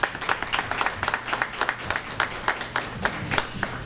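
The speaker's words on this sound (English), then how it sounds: "Please give them all a warm round of applause." A fire department ceremony audience gives warm applause, a fairly close, steady clatter of many hands clapping with distinct individual claps standing out through the few seconds.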